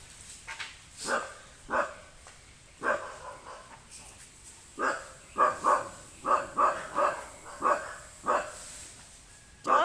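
A dog barks repeatedly outdoors during a python catch, a steady series of loud, close barks in bursts with brief pauses, with some faint background noise between them.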